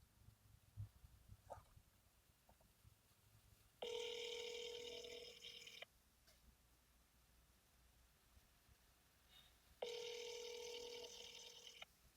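An outgoing phone call rings back twice through a handset, each burst about two seconds long with a long quiet gap between. The rings are clear but faint, with light background noise between them.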